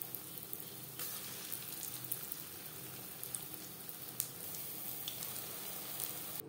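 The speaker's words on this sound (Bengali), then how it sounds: "কোপ্তাগুলো ভাজবো মিডিয়াম ফ্লেমে।" Raw banana koftas fry in hot oil over a medium flame, a steady close crackling sizzle with scattered sharp pops, no voices.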